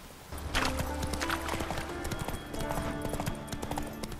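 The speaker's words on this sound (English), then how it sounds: "Let's go, horse. Run, Roach." Hooves clip-clop in a fast, steady rhythm as a horse gallops in The Witcher 3: Wild Hunt on PS4, loud and continuous with faint game ambience beneath.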